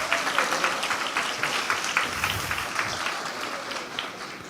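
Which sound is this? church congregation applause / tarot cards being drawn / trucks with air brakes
church congregation applause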